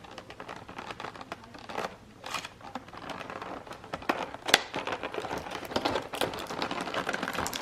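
A taped product box for a MicroTouch Titanium Trim grooming kit is torn open by hand, with close crinkling, ripping tape and cardboard rustles coming in irregular bursts that grow busier toward the end.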